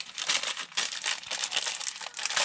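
Plastic bags from a Lego Creator Space Shuttle set 31134 being opened, a close, continuous crinkling and rustling with small tearing crackles, no voices.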